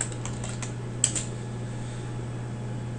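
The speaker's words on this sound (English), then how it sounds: "Here we need to type in orders plus." Keys clatter on a computer keyboard in a short burst of quick taps, close and fairly quiet, over a steady low fan hum.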